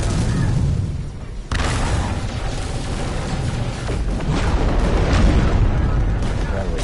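Continuous booming weapon fire and explosions from space combat against freighters in No Man's Sky, a dense, loud rumble that persists throughout with no pauses.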